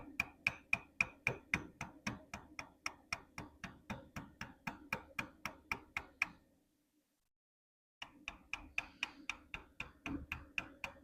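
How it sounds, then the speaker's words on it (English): Steady, rapid mallet strikes drive forged steel chisels into soft marble, a sharp ringing tap about every third of a second, a brief silent pause, then the tapping resumes at the same close, crisp rhythm. "the cut of these forged chisels into this marble is just, it's delicious"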